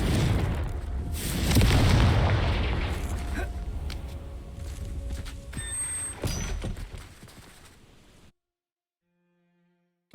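A Confringo fire spell blasts in the video game Hogwarts Legacy, a loud booming burst with a rumbling, crackling tail that fades over several seconds before cutting to near silence.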